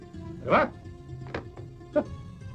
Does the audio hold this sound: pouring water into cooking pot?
no